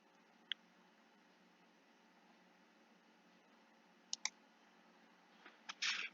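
A computer mouse clicking at a desk, a few sharp isolated clicks spaced apart, then a quick cluster of clicks near the end, close and faint over a steady low hiss.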